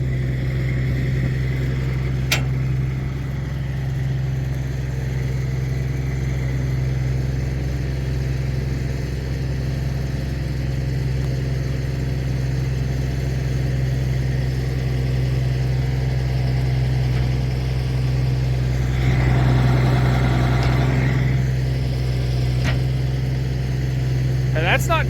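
A tractor pulls a Soil Mover scraper across an eroded field, its engine holding a steady low drone throughout, with a brief rise in effort near the end. The sound stays close and loud with little variation.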